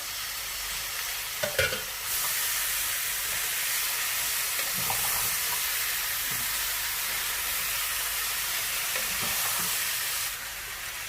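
Three large chopped tomatoes fry in a pan with aloo baingan, a broad steady sizzle that starts abruptly and runs for most of the stretch, with a few soft stirring knocks underneath, close and fairly loud.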